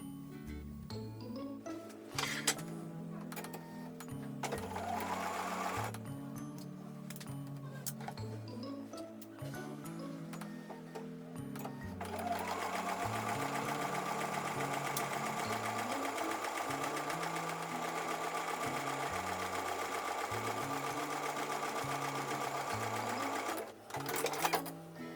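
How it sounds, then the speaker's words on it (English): A sewing machine runs in bursts of rapid mechanical stitching on quilt block pieces, pausing and restarting, then a long continuous run near the end. "take them over to the sewing machine and sew with a 1/4 inch seam."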